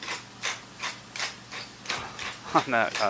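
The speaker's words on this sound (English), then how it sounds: "Which again, with this hand grinding, can take some time." A hand-cranked meat grinder works through ground meat with a rhythmic ratcheting churn, a burst every turn of the crank. A voice briefly speaks near the end.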